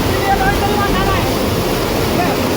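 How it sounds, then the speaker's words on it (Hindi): Fast-flowing flood water rushing through a river in Gujarat during flooding, a steady loud roar of churning water with no break throughout. "नदी में पानी की रफ्तार,"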